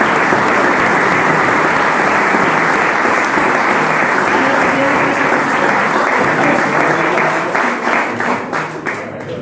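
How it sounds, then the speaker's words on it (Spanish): An audience at a homebrew beer contest award ceremony claps in loud, sustained, dense applause that thins out toward the end, with voices murmuring underneath. "Un fuerte aplauso a todos."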